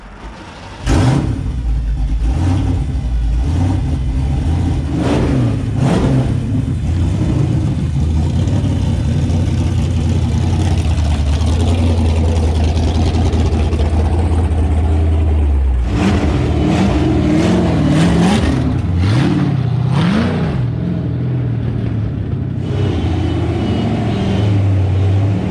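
A 351 stroker V8 on a dyno idles with a loud, lumpy rumble, then climbs through several sharp revs and wavering throttle blips, loud and close, with no voices.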